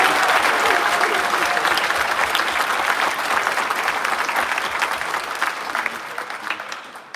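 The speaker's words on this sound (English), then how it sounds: "Class members, give yourself a round of applause." Pharmacy class members and their families at a white coat ceremony give themselves a round of applause, a dense, loud wash of many hands clapping that holds steady and then slowly fades toward the end.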